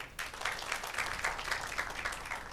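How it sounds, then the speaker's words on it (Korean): An audience claps steadily for a couple of seconds, a dense, even patter of many hands, moderately loud with no voices over it. "큰 박수 부탁드립니다"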